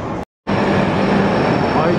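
A Hayabusa bullet train pulls into a station with a steady, loud mechanical roar and rushing air that cuts out briefly, then resumes just as loud.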